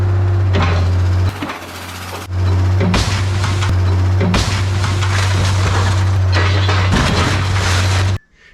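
An excavator smashes a broken refrigerator, loud heavy engine hum running throughout with repeated crashing, banging impacts and metal crunching, pausing briefly before resuming, up close.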